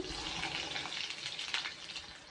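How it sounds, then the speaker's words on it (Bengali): Chopped ginger hits hot ghee and oil in a pan, giving a close, bright hissing sizzle with bubbling crackles that swells and fades briefly. "ঘি আর তেল দিয়ে একসঙ্গে এর মধ্যে দেবো আদা কুচি"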